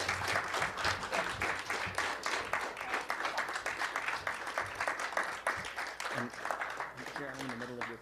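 A party convention audience breaks into sustained applause after a Green Party of Canada leadership acceptance speech, with continuous clapping and cheering voices mixed throughout.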